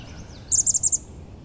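Chestnut-backed chickadee calling outdoors among shrubs; a quick burst of five high, thin, evenly spaced notes, clear and fairly close, over quiet background with a faint wavering whistle just before.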